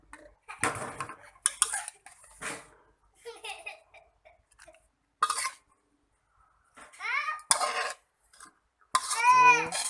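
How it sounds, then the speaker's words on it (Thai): Stir-fried basil pork is scooped onto a plate with several bursts of spatula and plate clatter, close and sharp, between pauses, with babbling voices and a child's chatter mixed in. "เสร็จแล้วเอาตักด้วยจานครับ"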